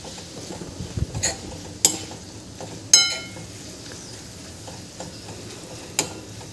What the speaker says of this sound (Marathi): आता यामध्ये आपण कोथिंबीर पण घालून घ्यायची आहे आणि छान मिक्स करून घ्यायचं आहे।